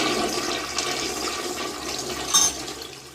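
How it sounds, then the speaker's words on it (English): A hotel toilet at the Tahoe Biltmore Lodge and Casino in Crystal Bay flushes with a slow, steady rush of water heard close up, with a brief louder gurgle near the end. "Give it a flush."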